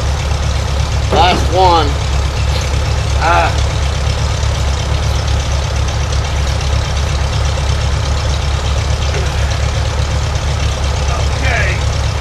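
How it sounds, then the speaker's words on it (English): Two tractors run at a steady idle nearby, a constant low diesel rumble throughout, with a couple of short voices briefly over it. "Y'all can hear the other two tractors running"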